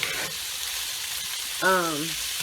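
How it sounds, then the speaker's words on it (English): Onions fry in a pan for mini tacos, giving a constant hiss. A short rising squeak or whine cuts in near the end. "I will go ahead on and add my onions in it to have it grilled."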